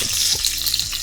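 Onions and garlic fry in a pot, giving a loud, dense sizzle with brief low stirring knocks beneath it, short and continuous.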